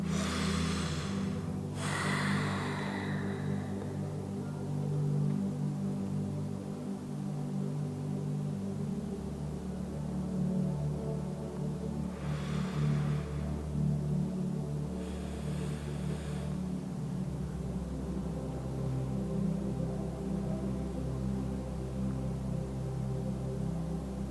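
Slow, deep exhales during a yoga breathing exercise, three forceful breaths spaced far apart, heard close over a steady low background hum, with no speech.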